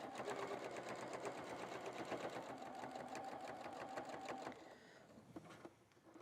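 Sewing machine stitching in the ditch along a quilt binding, a steady close rapid mechanical whir with fine repetitive needle ticks that runs continuously for about four and a half seconds, then slows and quiets.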